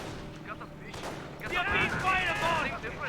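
A Panzer IV tank takes repeated gunfire hits in a Company of Heroes battle, with a burst of sharp impacts and crackling shots that grows denser and louder toward the end.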